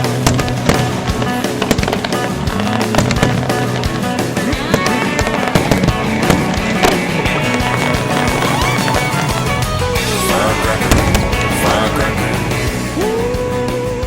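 Fireworks booming at a Methodist Red, White & BOOM! Independence Day show in 2012, a dense steady barrage of bursts and crackles heard under loud music throughout.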